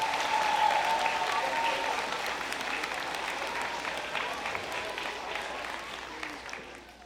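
An audience applauds the Peel Regional Police team at a road safety campaign launch, a steady, full round of clapping that gradually tapers, with faint voices mixed in.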